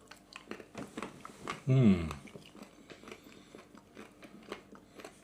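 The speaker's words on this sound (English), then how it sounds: "Do love a bit of crunch from my bacon." Crisp bites and crunchy chewing of an egg and bacon panini with extra-thick bacon, close up, with one louder crunch amid steady mouth noises and a voice speaking.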